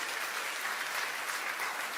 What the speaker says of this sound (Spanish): Denle un fuerte aplauso al Todopoderoso.